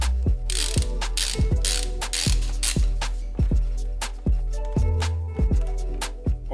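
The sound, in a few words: socket wrench ratchet unscrewing a bicycle crank bolt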